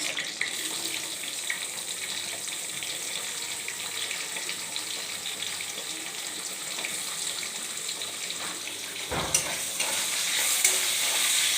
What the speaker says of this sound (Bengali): ফোড়ন ভাজা হয়ে গেছে, এবার দিয়ে দেবো এর মধ্যে